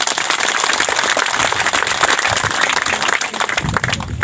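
A crowd of children and adults at a gathering applauds, a loud, dense wash of clapping sustained for several seconds without pause.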